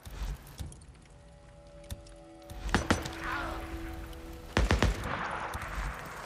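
Scattered gunshots in Days Gone: a few sharp cracks early, a steady tone in the middle, then a louder pair of close shots followed by a noisy rumbling tail.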